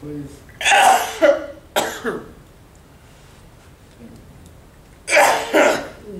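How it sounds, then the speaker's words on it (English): Three sharp, forceful sneeze-like bursts, two close together at the start and one more after a quiet pause, loud and close by. "You're gonna sneeze, you're not gonna like it."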